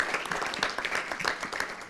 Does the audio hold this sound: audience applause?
yes